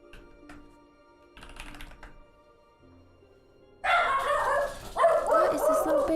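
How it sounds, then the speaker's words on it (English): A small dog yaps and barks loudly and repeatedly over faint keyboard typing and quiet room sounds, the barking starting partway through and continuing in bursts. "What is this little bitch barking about?"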